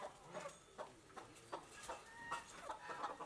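Chickens cluck softly in short, repeated bursts, a quiet scattered clucking close by with no voices.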